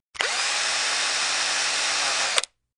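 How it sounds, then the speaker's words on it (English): A power drill whirs steadily at high speed for over two seconds, loud and close, starting and stopping abruptly. "The drill. It hit like thunder. It shook her walls."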